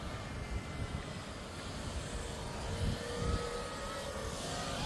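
A giant twelve-foot-wingspan RC model airplane engine drones steadily in flight, a continuous distant buzz under wind noise that swells slightly louder in the second half, with no voices.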